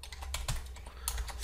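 Fingers tap a computer keyboard in a brief burst of quick, irregular keystrokes, close and fairly quiet, with no talking.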